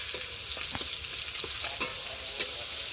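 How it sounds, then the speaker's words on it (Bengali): A pan of taro and taro greens fries with a constant soft sizzle while a utensil stirs, giving a few distinct sharp taps and scrapes against the metal, close and moderately loud, with no talking. "পাঁচটা কচু আলু দিয়ে রান্না করবো আর কচু শাকটা হয়ে গেল"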